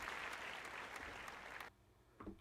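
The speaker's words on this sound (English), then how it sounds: "And this one has applause. A different set of applause." A livestream soundboard button plays a recorded applause effect, a quiet but dense burst of clapping that cuts off abruptly after about a second and a half, followed by a faint murmur.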